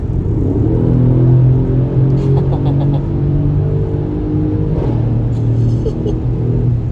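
A newly bought car's engine rumbles and pulls hard as it accelerates to overtake, a loud, steady in-cabin drone with a brief dip near the end. Faint voices can be heard inside the car.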